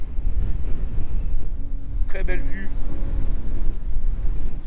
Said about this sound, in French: Il y a vraiment du vent.